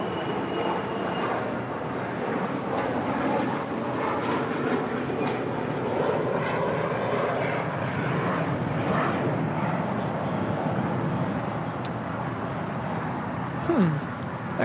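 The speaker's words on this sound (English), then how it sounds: "And Gulfstream is departing to Chino" A Gulfstream business jet departing Los Angeles International (LAX) for Chino makes a faint, distant, continuous engine roar that swells slightly, with a low murmur of voices in the background.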